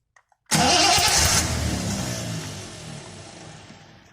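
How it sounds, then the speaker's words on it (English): A Triumph TR6 engine is turned over on a roadside breakdown, a loud abrupt burst of cranking and engine noise that starts after a brief click and then slowly fades, close to the car with no talking. "So I'll just turn it over and see what happens here."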